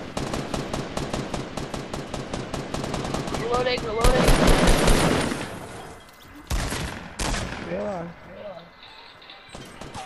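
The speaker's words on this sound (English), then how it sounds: "I'm getting shot at." Fortnite gunfire: rapid automatic bursts rattle through the first few seconds, then a loud blast and a few more scattered shots and impacts, mixed with game sound effects.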